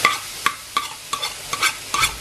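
Shredded jicama filling frying in a pan, stirred with a run of quick, regular scraping strokes over a light sizzle, close up with no talking.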